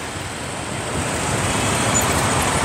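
Dense traffic at a four-way intersection in Ho Chi Minh City, a steady, close roar of engines and road noise that swells slightly toward the end, with no voices.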